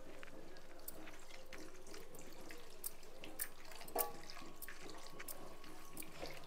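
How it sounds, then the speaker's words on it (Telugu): Boiled and cooled milk is poured into a pan for jackfruit payasam, making a soft, steady trickling stream that stays fairly faint and unbroken, with no talking. "ఇదిగోండి ఇప్పుడు పాలు పోస్తున్నాను దీంట్లోనే."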